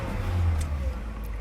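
A Mercedes SLK 230 engine with a slow throttle response revs up briefly as the gas pedal is pressed, a steady low-pitched roar that swells and then eases off, close by and with no talk over it.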